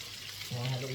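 Spinach and mushroom with chicken wings being stirred in a pan, a faint, quiet sizzle of frying, with a voice starting midway over it.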